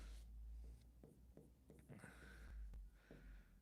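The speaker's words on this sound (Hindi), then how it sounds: "मैं यहां पर लिख देता हूं" Marker or chalk strokes on a classroom board during a maths lesson, a few short scratchy scribbles in quick bursts, close and fairly faint, with no talking over them.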